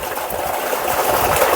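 An electric water pump motor runs at a rural home, filling water tanks with a steady whirring hum and rushing water, continuous and fairly close, with no talk.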